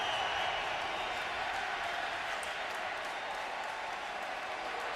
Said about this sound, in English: This crowd's come alive, Tom.